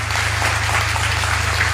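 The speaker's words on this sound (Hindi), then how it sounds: "उनके लिए जोरदार तालियां हमारे मेहमानों के लिए" Live audience applause welcoming first-time guests at a Hindi talk event, a steady dense wash of clapping over a constant low electrical hum, with no talk.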